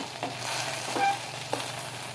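Okra pieces sizzle and fry in an oiled pan while cooking an old-style tamarind curry. A steady, close crackling hiss runs throughout, with a few soft stirring scrapes.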